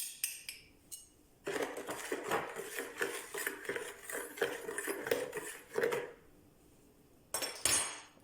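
A spoon clinks and scrapes against a bowl while stirring water with sugar and salt, with irregular metallic taps and swishing, close up, then a pause and a few final clinks.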